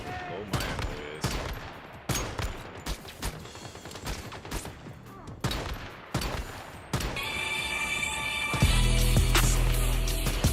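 Rapid bursts of gunfire in a video game demo, loud volleys and repeated shots spread across the stretch, ending in a sustained mechanical roar.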